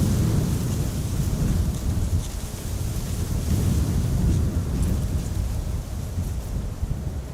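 Strong wind during Storm Bert at Amsterdam Schiphol Airport, a loud continuous rumbling roar buffeting the microphone with a steady, heavy low-pitched wash and no pauses.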